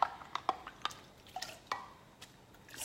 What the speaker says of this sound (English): And then we're just going to pour that.